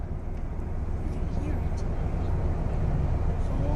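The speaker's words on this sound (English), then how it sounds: "You can also clearly hear the jet-like roar from the tornado" A strong tornado gives a continuous, heavy, jet-like roar, a loud broadband rumble that holds steady and close for the whole stretch with no break.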